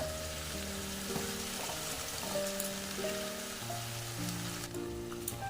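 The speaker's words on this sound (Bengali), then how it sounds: "এবার কুমড়ো ডাঁটাটা আলু বেগুন আর মশলার সাথে ভালোভাবে একটু কষিয়ে নেব" Pumpkin stalks, potato and eggplant sauté with spices in a pan for a vegetarian chorchori, making a steady crackling sizzle beneath gentle background music.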